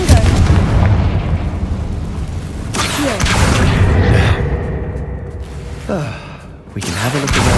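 Fiery spell explosions in the Hogwarts Legacy video game, deep rumbling booms with bursts of crackling blast, loud and close over continuous game ambience.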